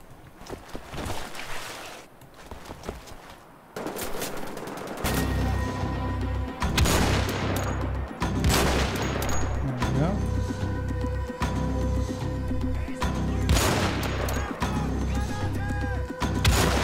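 Gunfire in Wolfenstein: The Old Blood: several sharp shots and booming blasts ring out over a dense, steady rumble of game sound and music, loudest from about five seconds onward.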